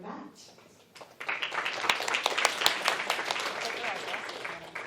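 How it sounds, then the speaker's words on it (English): Audience applause breaks out for a speaker introduced at a talk on autonomous AI agents, starting after a quiet second and swelling into steady, dense clapping that fills the room. "please give a big round of applause for Matt"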